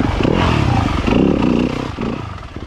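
Enduro motorcycle climbing a steep section of trail at the Loose Moose National Enduro in Marquette, Michigan, engine loud and close under steady throttle with rattling clatter, then easing off briefly.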